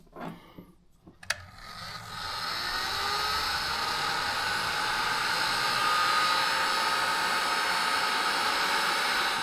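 A heat gun turned up to a higher setting blows steadily on solder seal wire connectors in a Polaris Sportsman 570 wiring harness repair, a continuous loud whooshing hum starting after a couple of seconds of quiet handling noise.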